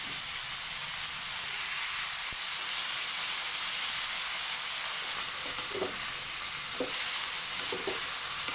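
Chicken feet adobo sizzles and hisses steadily in a pan with dark soy sauce, with a few soft scrapes and knocks of stirring near the end.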